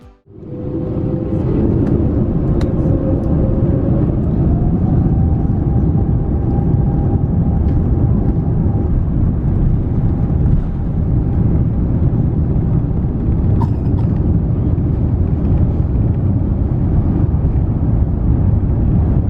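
Thai Airways Airbus A350-900 engines rumbling steadily from inside the cabin during pushback and taxi, a broad, constant low roar with a faint rising whine, no talk.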